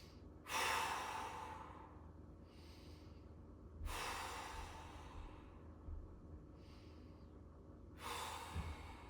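Three big, deep breaths taken during a floor mobility exercise, each a loud close inhale and exhale, spaced about three to four seconds apart with quiet pauses between.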